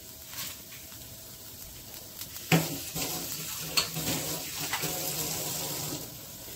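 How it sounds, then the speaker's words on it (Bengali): Chopped vegetables for vendi masala, with okra and chilli, stirred and dry-roasted in a pan without oil over moderate heat: a soft continuous sizzle with irregular scraping and clinking stirs, one sharper knock midway. "আর রোস্টিং প্রসেসটা আমি দেখাবো।"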